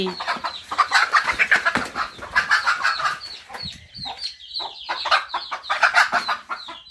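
Chickens cluck and squawk in quick, overlapping bursts close by, a busy, continuous flock chatter with brief pauses.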